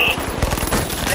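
Rapid AK rifle fire in a video game, a dense rattling burst of shots running steadily through the whole moment at full loudness, with a voice faintly mixed underneath.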